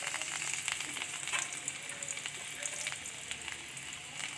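Chopped garlic frying in melted butter in a pan, a steady close crackling sizzle with dense fine spatter throughout and no talk.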